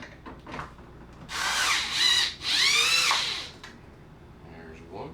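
A power drill drives screws while an A/C unit is mounted on a fifth-wheel trailer, two loud close whirring bursts of a few seconds each, with brief handling noises and a voice speaking around them.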